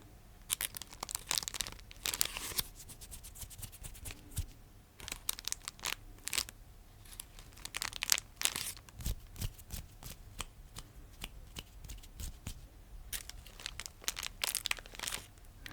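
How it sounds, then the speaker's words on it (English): Paper squeezed and crinkled by hand in a series of close, crisp crackling bursts, loud and alone with no talking. "How many times did I squeeze the paper?"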